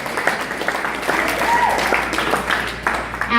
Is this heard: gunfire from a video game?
no